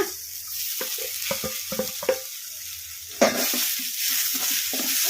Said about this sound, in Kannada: ಟೊಮೊಟೊ ಉಳ್ಳಾಗಡ್ಡಿ ಹಸಿಮೆಣ್ಸಿನ್ಕಾಯಿ ಎಲ್ಲವೂ ಫ್ರೈ ಆಗಿದಾವಲ್ಲ